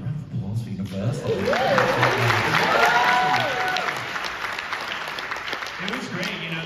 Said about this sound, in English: Yeah, round of applause for Universal.